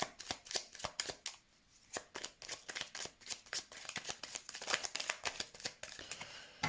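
Ho'oponopono wisdom cards are shuffled over and over by hand, making fast, crisp, close slapping and riffling clicks in an uneven rhythm with no talking.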